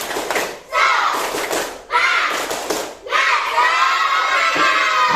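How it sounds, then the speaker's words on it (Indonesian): Schoolchildren in a primary classroom shout a rhythmic clapping chant together in loud bursts, with short pauses between phrases and claps mixed into the voices. "Tepuk semangat"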